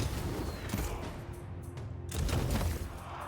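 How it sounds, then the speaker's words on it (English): A volley of fire arrows in the strategy game Total War: Pharaoh, a dense rushing crackle and whoosh of many projectiles at once, swelling in two waves over a steady battle rumble. "Sound like firework arrows."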